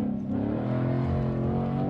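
A Ford Mustang Shelby GT V8 with 450 hp accelerating, a loud, close, deep engine rumble with a steady throaty drone that rises slightly in pitch.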